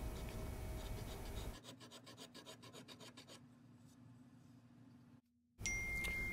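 An old hand plane shaves wood in a few rhythmic rasping strokes, close and clear, followed by quieter scraping and a brief silence.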